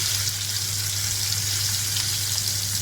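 A steady, even sizzle of okra frying in hot oil with mustard seeds and asafoetida, continuous and close, with a low hum underneath and no voices.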